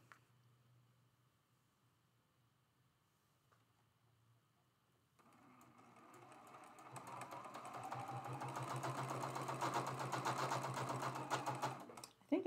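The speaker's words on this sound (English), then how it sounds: "We have one more seam to sew." A domestic sewing machine stitches a seam on a traditional quilt block: a quiet hum first, then a rapid, even needle clatter that runs for several seconds before stopping.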